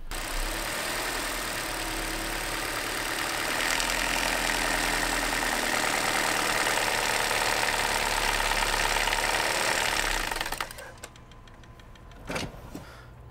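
A 2014 Kia Forte engine with a rattle and a stalling fault idles with a steady drone for about ten seconds, then sags sharply as it nearly stalls, followed by a few faint knocks.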